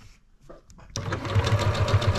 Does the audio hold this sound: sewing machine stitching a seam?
yes